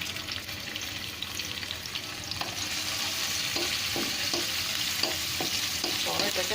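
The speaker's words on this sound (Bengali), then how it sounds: "এটাকে হালকা একটু ভেজে নিতে হবে।" Chopped onion lightly frying in olive oil gives a steady close sizzle, with a few soft stirring knocks toward the end.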